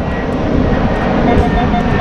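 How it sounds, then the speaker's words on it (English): A fixed-wing aeroplane flies overhead, giving a loud, steady broadband engine roar that fills the scene outdoors at a metal-detecting dig, with some faint talk mixed in. "Just wait till the aeroplane goes past."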